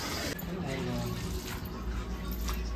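Water running steadily during an outdoor bath beside a truck on a hot day, a constant close splashing gush with no gaps, with a voice faintly present beneath it.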